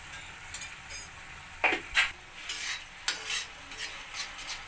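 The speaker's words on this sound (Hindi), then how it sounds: "अब हम इन सबको अच्छे से एक बार अच्छे से मिक्स कर लेते हैं" Spices being stirred in a hot pan for dry veg manchurian, a steady close scraping and sizzling with several sharper spoon strokes, no voices.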